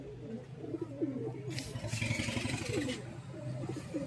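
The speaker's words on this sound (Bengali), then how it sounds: "খুবই সুন্দর কবুতর গায়েস দেখতে পাচ্ছেন" Pigeons in a loft coo repeatedly, a close chorus of low, burbling calls in uneven bursts, with faint bright hissy noise rising behind them midway.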